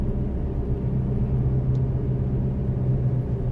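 Steady low diesel drone from a Duramax 2.8 in a Chevrolet Colorado ZR2 towing a camper at about 2,500 RPM and 40 mph, a constant cabin rumble with no voices.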